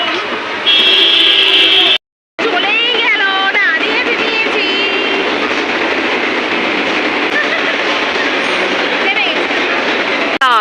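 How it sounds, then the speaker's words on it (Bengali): A train rumbles past with a broad continuous roar, and a high whining tone and squealing wheel sounds ride over the steady noise before it fades slightly. "ট্রেন কোথায় আমি তো অন্য লাইট দেখতে পাচ্ছি"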